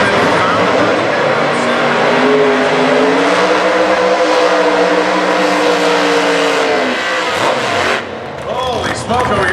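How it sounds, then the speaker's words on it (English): A short-wheelbase 1940 Anglia gasser drag car does a burnout at Indy, its engine roaring loudly with rising and falling revs and tire spin before cutting out, while a commentator talks over it. "That little short wheelbase car kind of spins around out there during the burnout."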